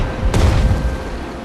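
A tank in a wartime strategy video game fires a high-explosive shell, one sudden deep boom followed by a rumbling tail that fades out over about a second.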